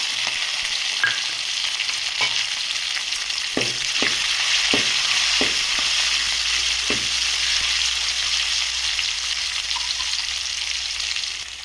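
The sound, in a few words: onion pieces frying in oil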